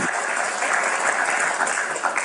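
An audience at a debate with Christopher Hitchens applauds, a close, continuous wash of clapping that stays level from start to finish.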